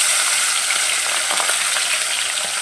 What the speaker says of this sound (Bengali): তেলটা গরম হয়ে গেছে এবার মাছগুলোকে আমি ভেজে নেব